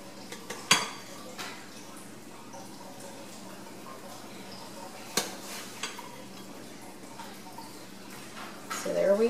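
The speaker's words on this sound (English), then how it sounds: "start placing the stuffing on top of the casserole" Stuffing is spooned onto a chicken and asparagus casserole in a baking dish, with sharp clinks of a metal spoon against the dish, soft scraping and a few dull taps over a quiet room background.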